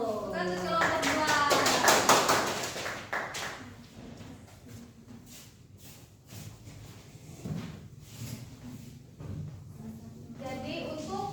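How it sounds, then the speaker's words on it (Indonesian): A class of students applauds a student group in a school lesson, a loud burst of clapping at the start that thins into scattered claps and taps, with children's chatter and a teacher's voice continuing underneath. "Tepuk tangan untuk kelompok 2."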